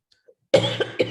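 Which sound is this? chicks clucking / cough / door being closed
cough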